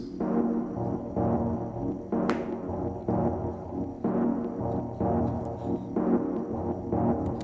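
A synth chord processed with the Infiltrator 2 delay plugin repeats in rhythmic pulses roughly every second, each hit trailing into echoing delay repeats, with no voices.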